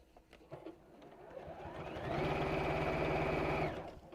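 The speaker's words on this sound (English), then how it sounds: "I'm actually sewing now." A sewing machine stitches steadily, starting quietly, ramping up to a sustained fast motor whirr with rapid needle ticking for about a second and a half, then stopping; light background noise surrounds it.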